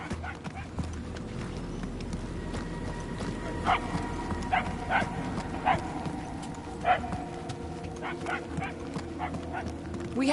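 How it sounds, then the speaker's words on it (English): Small dog yapping in the Guardians of the Galaxy video game, short sharp barks repeating irregularly over a steady background of ambient game sound, moderately near. "The yapping is getting louder."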